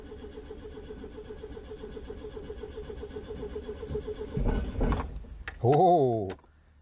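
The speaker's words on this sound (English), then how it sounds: "So we shall give you full choke, and we shall crank away." A Citroen GSA engine on full choke is cranked by the starter motor in a steady mechanical whirring rhythm, followed by louder rough bursts and a rising, wavering whine as it nearly catches, then a sudden drop to quiet.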